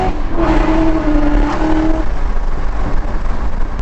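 A 2001 car's engine revs and drones loudly from inside the cabin while driving, pitch climbing briefly before settling into a steady roar.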